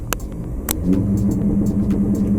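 A car engine idles, then climbs to a steady rev held at 3000 rpm with a droning hum and low rumble, close by and without talk.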